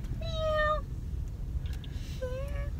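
A small child imitates a cat with two drawn-out, tonal meows, the first louder and the second after a short pause, against a quiet background.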